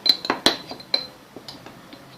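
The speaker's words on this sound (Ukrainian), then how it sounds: "Так, все перемішуємо." A utensil clinks and scrapes against a bowl in quick irregular taps, close and crisp, tapering into softer scraping, while stirring a cake mixture with cocoa.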